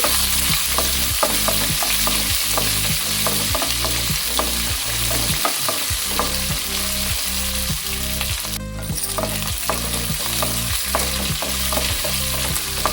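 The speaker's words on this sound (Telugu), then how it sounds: "ఒక ఉల్లిపాయ సన్నగా పొడవు పొడవుగా కట్ చేసుకొని అది వేశాను ఇంకా ఉల్లిపాయ కలర్ చేంజ్ అయ్యే వరకు వేయించుకోవాలి" Onion slices and dried red chillies frying in hot oil on high flame for an amaranthus leaf fry, a steady close sizzle with a rapid regular stirring or scraping rhythm throughout.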